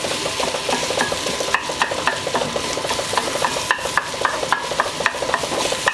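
Seasoned ground chicken frying in big chunks in a pan, a steady close sizzle broken by rhythmic scraping of a utensil stirring the meat, with no talking.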